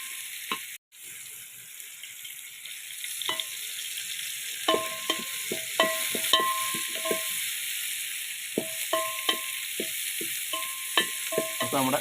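Small onions sauté in a pan for a chicken curry, with a soft steady sizzle under a run of crisp, irregular spatula scrapes and taps that grow busier, heard close with no voices.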